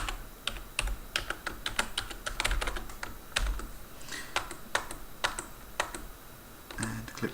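Rapid, irregular keystrokes on a computer keyboard as login details are entered during a Red Hat Enterprise Linux 8 installation on VirtualBox; close, steady clatter with short pauses and no talking.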